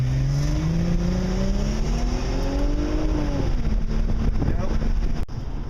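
An LS1 Pontiac GTO with a 5.7-liter V8 sits alongside as an engine revs and accelerates hard, its rising harmonic drone loud and close under steady wind buffeting, then cutting off abruptly near the end.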